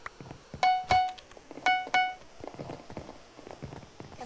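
Blocks are broken and replaced around a bed in the Bed Wars video game: four sharp, loud tonal hits come in two close pairs, followed by a softer scatter of quieter taps and clicks.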